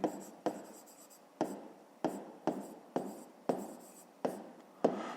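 A pen writing a maths equation by hand on paper in a quiet room, with rhythmic strokes and taps recurring roughly every half second, close and soft, with no talk.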